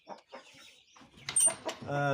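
Baby chicks for sale peep in short, high chirps near the end, following a voice speaking briefly beforehand.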